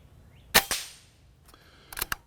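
An air gun fires on its low power setting, giving two sharp, close cracks in quick succession, a pause, then two more shots near the end, each ending in a short metallic ring.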